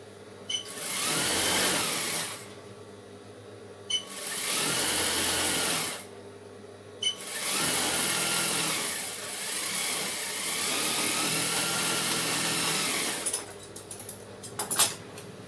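Fabric for Patiala pants being stitched on a sewing machine: four long, loud runs of rapid mechanical whirring separated by short silent pauses, then a few light clicks at the end.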